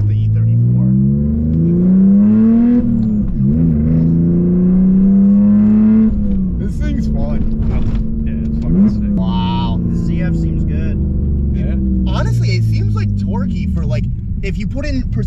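A BMW E46 wagon engine running with an uneven, hunting idle, its low hum rising and dipping over about fifteen seconds while people talk over it nearby.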